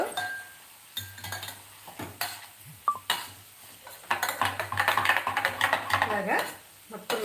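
Clinking, scraping mashing of fried ingredients in a pan or vessel while cooking Udupi-style rasam, with irregular taps and scrapes building into a busier stretch of clatter, close and moderately loud.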